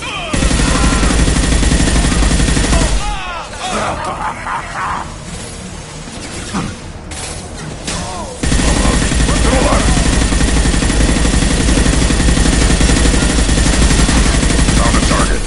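Rapid bursts of sci-fi gunfire in a Mass Effect Legendary Edition firefight, loud and dense, briefly dropping away midway before resuming at full intensity, with some voices mixed in.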